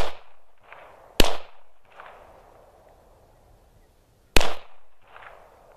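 Two sharp handgun shots during shooting practice, loud and close, a few seconds apart, each followed by a short echo off the surroundings.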